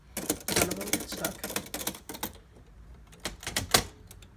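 Keys strike on a 1915 Underwood Type 5 typewriter in a quick run of sharp clacks, then a short pause and a few more sparse strikes, close up.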